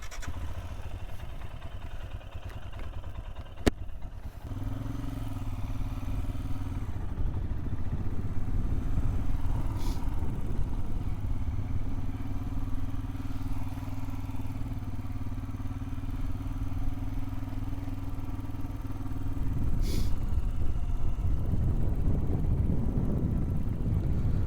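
A Royal Enfield Himalayan motorcycle rides along a road, its engine droning steadily underneath heavy wind buffeting, with a knock early on and the engine note rising and falling as it moves.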